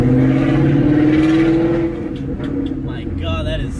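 A 700 HP Procharged Ford Mustang GT with long tube headers, an X pipe and a muffler delete rumbles loudly at a steady idle, its deep exhaust drone continuous and close, with some background noise near the end.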